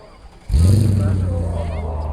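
An old Mercedes engine suddenly fires up with a deep, throaty exhaust rumble, loud and close, holding a steady growl afterward, at a Mercedes car meet.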